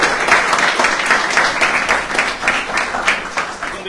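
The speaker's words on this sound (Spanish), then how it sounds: "un fuerte aplauso" A crowd at a regional sports league ceremony gives a hearty round of applause, clear rhythmic clapping close and lively, fading slightly toward the end.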